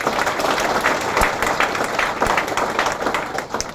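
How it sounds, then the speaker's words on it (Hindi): A hall audience applauds together in a dense, steady wash of clapping that holds at full strength from start to finish, with a few sharper claps standing out near and no voices above it. "तो एक बार सभी के लिए जोरदार ताली"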